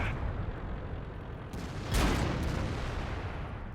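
A single deep booming cannon shot from an enemy tank in World of Tanks, rising out of steady rumbling battlefield noise and fading slowly.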